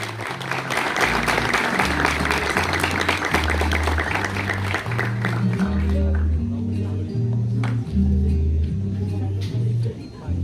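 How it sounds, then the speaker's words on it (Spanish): Audience at a school graduation ceremony applauding a new graduate, a dense, sustained wash of clapping filling the hall, with loud music playing steadily underneath throughout. "Fuerte el aplauso de los presentes."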